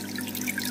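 Water splashes and trickles steadily from the spray bar of a Sun Sun JP-032F nano aquarium filter held just above the waterline, a soft, continuous close-up patter.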